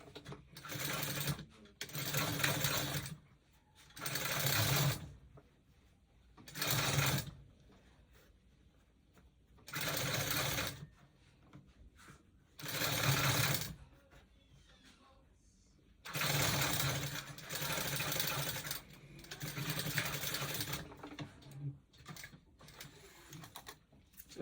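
Sewing machine stitching down a facing on a basic bodice, running in repeated bursts of a few seconds separated by short pauses, close and steady.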